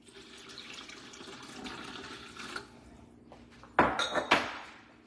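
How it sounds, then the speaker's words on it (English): Hot water running into a pan of cold beef broth paste while oxtails are prepped, a steady faint pour followed by several sharper splashes and clinks near the end, with no talk. "I'm using hot water because I'm getting ready to cook them anyway, so just a little hot water."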